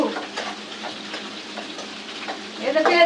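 Onions sizzle in hot oil while being stirred, with soft crackling frying and several scraping stirs that grow louder and brighter near the end.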